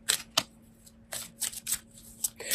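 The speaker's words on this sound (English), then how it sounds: "So now I am shuffling one of our Archangel Raphael Healing Oracle cards." Archangel Raphael Healing Oracle cards being shuffled up close, several quick papery riffling bursts separated by brief pauses, quiet and without talk.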